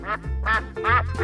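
Duck quacks in a 3D animal slide video game, three loud nasal calls evenly spaced over a low background hum with no speech.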